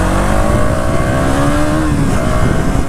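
A KTM Duke 200 motorcycle engine revving steadily under light throttle, loud and close, with a rising tone that holds for a few seconds and carries no other sound.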